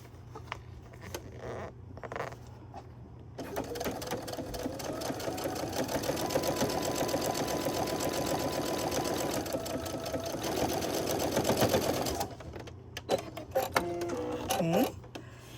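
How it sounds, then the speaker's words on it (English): Sewing machine stitching along the edge of a fabric pot holder, a fast rattling run lasting several seconds, framed by brief handling clicks and faint movement before and after. "I'm going to sew about 1/8 of an inch along this edge"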